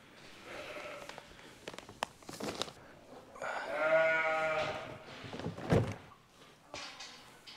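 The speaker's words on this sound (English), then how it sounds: "Right, that's sheep unloaded, ewes, tups." Several sheep, ewes and tups, bleat in a cluster, one long wavering call standing out, amid thuds and shuffling of livestock being unloaded at a county show.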